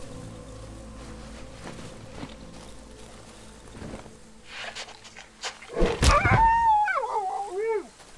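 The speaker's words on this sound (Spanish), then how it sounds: "¿Y estos perros qué? ¿Respawnean o qué?" Dogs in the survival horror game Darkwood growl and snarl faintly at first, then break into a loud, close burst of barking that turns into a wavering howl near the end.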